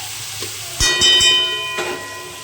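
Onions for chicken curry sizzle in a hot pan, a loud close frying hiss broken by a few sharp clanks of a utensil against the pan.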